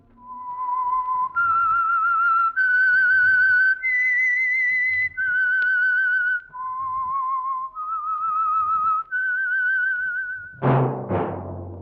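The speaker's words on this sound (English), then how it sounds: "That whistle is your signal for the Signal Oil Program, The Whistler." A solo whistled melody, the theme signal of a 1947 radio program, clear and close, moving through a series of held notes before ending with a brief breathy sound.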